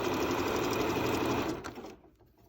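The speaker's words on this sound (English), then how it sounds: "We're just going to sew." A sewing machine runs fast and steady, stitching a cloth face mask with a continuous whirring buzz up close, then slows and stops near the end.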